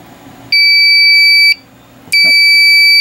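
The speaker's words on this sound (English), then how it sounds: "the fire alarm is hooked up to the programmable relay" A home fire alarm system sounds during a test: two loud, steady high-pitched electronic tones, each about a second long, separated by a short pause, with no voices.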